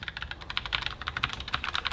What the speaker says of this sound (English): this feels extremely comfortable to type on